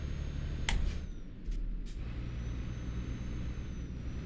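A Volvo truck with a 750 engine drives in a trucking video game, its steady low engine drone running throughout, with a brief hissing air-brake burst early on and a couple of softer hiss bursts after.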